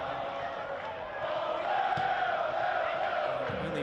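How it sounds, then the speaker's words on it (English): Crowd buzz inside a football stadium during an Australian Championship match between South Melbourne and Moreton City Excelsior, a continuous roar of many fans swelling slightly midway, with no distinct voices. "And listen to the buzz inside this venue."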